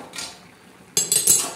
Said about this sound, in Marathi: आता आपण ढाकण काढून बघू उकाळी का शिजली का नाही